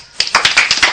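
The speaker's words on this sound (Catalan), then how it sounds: "Va, un aplaudiment." A short burst of close, sharp hand claps in a school classroom, several distinct slaps in quick uneven rhythm from a small group, loud and near.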